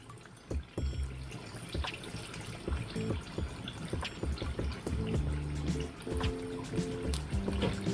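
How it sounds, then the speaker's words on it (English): Cut meat tipped off a cutting board into a pan of sauce, giving a run of close, clattering knocks and wet sizzling splashes with a steady frying hiss underneath, no talking. "So I'm just going to roll my board a bit and dump it in the sauce."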